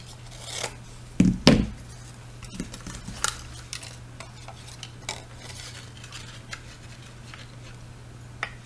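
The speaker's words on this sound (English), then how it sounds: "Cut this little bit off." Scissors snip a small piece off a crafting workpiece: a couple of crisp close cuts near the start, followed by scattered light scraping and handling noises in a quiet room.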